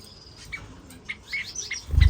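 Small birds chirp and tweet in short, bright bursts against a quiet background, ending with a low thump.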